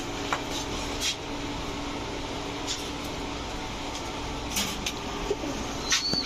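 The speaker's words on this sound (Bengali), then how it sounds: "এখন দেখাবো 1 জোড়া আর্মি কবুতর" A pair of army pigeons coo softly and intermittently, faint against a steady background hum.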